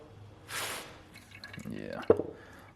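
Water drips and splashes out of an engine oil pan from an LS4 V8 in a turbo Fiero that has sat for a year, a short gush then a few drips and splats, with a voice speaking over it.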